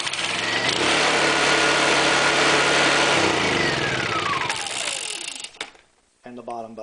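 A Honda EU2000i generator engine running loud and steady, with a rising-then-falling whine sweeping through, then cutting out to near silence before a brief burst of voice at the end.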